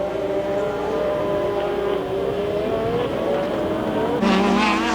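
Formula 1 cars from 1984 race at the Portuguese Grand Prix as Lauda passes Rosberg, giving a loud, steady engine whine whose pitch drifts slowly, with a second car's note cutting in sharply near the end.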